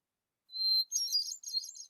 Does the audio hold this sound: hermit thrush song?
yes